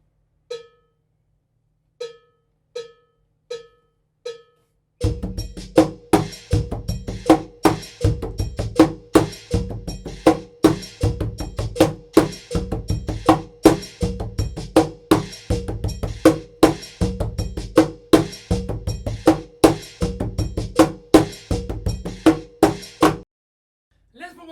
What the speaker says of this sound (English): That is a Afro-Peruvian rhythm that you can play on the cajon.